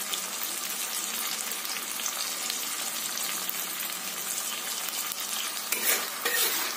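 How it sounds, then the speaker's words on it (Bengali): Spices with salt and turmeric sizzle in a hot pan while being stirred, a steady close crackle with light scraping of a utensil, growing a bit louder near the end. "এটাকে সুন্দর করে মিক্সড করে নেব।"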